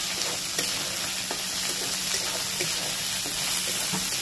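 Green chilies fry in hot oil for a chicken curry, giving a steady, close sizzle and crackle with small spits and pops throughout and no talking.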